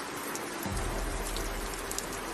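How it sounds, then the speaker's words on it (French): Steady rain pours outdoors in a video game scene, a dense, even hiss of drops on surfaces with a low rumble underneath, constant throughout and free of voices. "Tu vas dehors, c'est sous la pluie alors."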